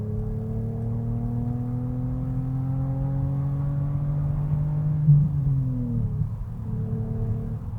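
A naturally aspirated BMW Z4 engine holds a steady drone in third gear at about 4,000 RPM, heard from inside the car as a continuous even hum with a slight pitch dip near the end.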